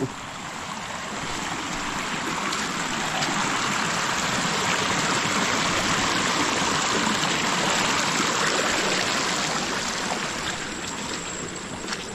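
Water rushes and gurgles steadily, like a stream flowing over rocks close by, with no voices.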